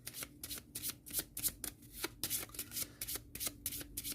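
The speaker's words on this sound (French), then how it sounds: "Donc je remélange tout ça correctement." A deck of game cards for the Marvel Champions card game is shuffled by hand in a rapid series of crisp riffles and soft slaps, close and fairly quiet, with no voices.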